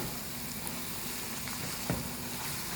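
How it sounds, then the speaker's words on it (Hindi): Okra, onion and chicken being stirred with masala in a hot pan, a continuous oily sizzle with scraping spoon strokes and a sharper clack near the end. "अब बस अच्छी तरह से मिक्स करेंगे मसाले के साथ"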